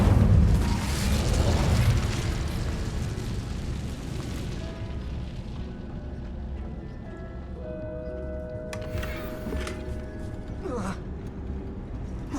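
A fire spell cast in the video game Hogwarts Legacy bursts out as a loud, roaring whoosh that slowly fades, followed by softer magical tones and a brief crackle near the end.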